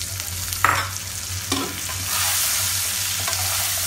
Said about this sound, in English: They are nicely fried, so add beans.